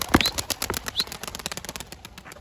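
Mardin smoky tumbler pigeons taking off together, a quick flurry of wing flaps close by with a couple of faint chirps over the rapid flapping.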